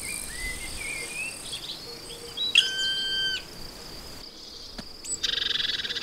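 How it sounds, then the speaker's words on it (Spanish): Common blackbird, a male, singing from cover among frogs and insects: a fluting phrase stands out over a steady chorus of croaking and chirping, with a rhythmic tit call near the end. "Y un mirlo, también escondido, también vestido de negro."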